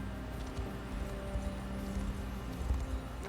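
Hooves clip-clop steadily in the video game Unicorn Overlord, a quiet rhythmic trot over a low ambient drone, with a horse snorting faintly.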